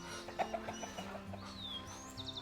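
Norwegian chickens on a countryside farm in Peru cluck in a short, soft series of calls, with a faint higher bird chirp near the end.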